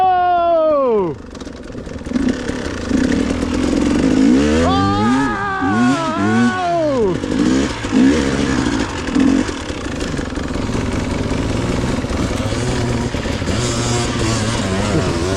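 Enduro motorcycles rev hard at a 2024 off-road race, with rising and falling engine whines sweeping up and down, loud and close, over a constant rumble. Spectators shout and talk throughout.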